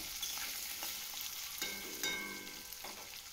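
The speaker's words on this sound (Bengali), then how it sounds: "আলুগুলো দেওয়ার পরে আমি আলুগুলো ভালো করে ভাজা করে নেব" Potatoes frying in a pan, a steady hissing sizzle with faint crackles and a few light stirring scrapes, moderately close and without talk.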